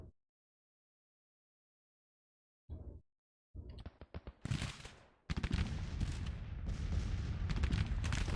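Civil War-era artillery fires in Grand Tactician: The Civil War. After a short silence, a few separate booming blasts go off, then build into a dense, continuous roar of heavy gunfire.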